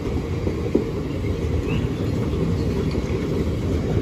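A freight train rolling past a level crossing at Sincil Bank, a steady continuous rumble of wagons with a single clank near the start, heard from close by without talk.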